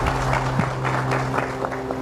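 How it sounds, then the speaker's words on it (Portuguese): An audience at a forum on stage at the Expointer agricultural fair applauds, a steady wash of many hands clapping throughout. "Recebe os nossos aplausos Marcelo Madalosso."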